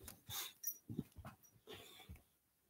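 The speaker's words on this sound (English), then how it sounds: "That dog is trying to mess up my recording." A dog indoors makes faint, close whimpers, pants and small snuffling sounds in short irregular bursts, quiet and alone.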